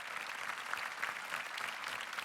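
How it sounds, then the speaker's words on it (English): Graduation ceremony audience at The Choice School Kochi applauding, a steady dense wash of many hands clapping at once, moderately loud and unbroken throughout. "let's give ourselves a big round of applause"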